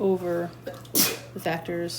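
A single sneeze bursts out from a student mid-lecture in an algebra classroom, loud and abrupt, set between stretches of a teacher speaking.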